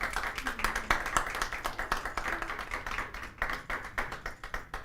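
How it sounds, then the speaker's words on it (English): Several people clap during a Life Study gathering, a quick, uneven run of hand claps and taps that goes on without pause at moderate loudness in a room. "So let me clap"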